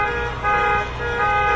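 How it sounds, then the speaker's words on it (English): Car alarms blare together in a sustained, droning electronic tone, loud and steady for the whole moment without breaks. "Setting the alarms off on the cars and stuff"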